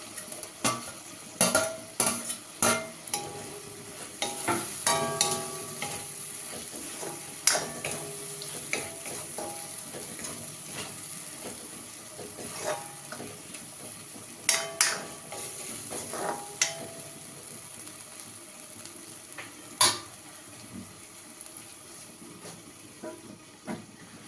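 Crushed ginger-garlic paste fries in a pot of pork curry with tomatoes, a steady close sizzle broken by frequent sharp scrapes and clinks of a spoon stirring against the pan.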